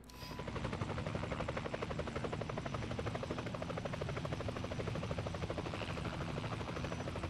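Steady helicopter rotor chop and engine drone from the War Thunder video game, a continuous rhythmic thumping buzz that holds evenly throughout, moderately loud with no voices over it.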